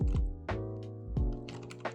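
Code is being typed on a computer keyboard in a few separate, fairly strong keystrokes spaced about half a second apart, heard close up against a steady tonal hum, with no talking.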